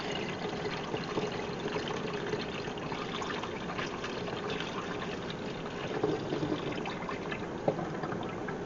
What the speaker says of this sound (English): So I'm just gonna put the liquid in through the funnel.